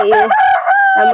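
A domestic rooster on a backyard poultry farm with laying hens crows once, loud and close, its strained call held for about a second.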